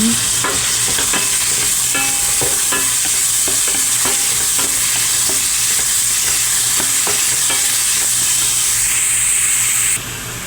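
Small onions sautéing in a pan, a loud, dense sizzle with repeated scraping stir strokes at an uneven rhythm, steady almost to the end before easing off abruptly, with no speech.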